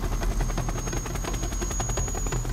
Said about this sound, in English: There was no other way in except a Black Hawk helicopter.